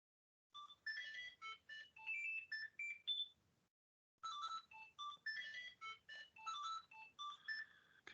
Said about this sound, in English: I can just hear a phone.